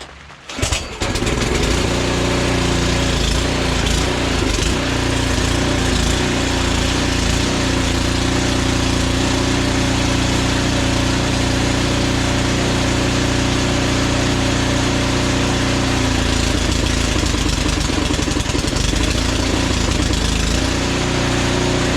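A Powersmart 26-inch snow blower's 212cc engine starts and runs steadily, a loud, close, continuous mid-pitched drone that holds even for about twenty seconds.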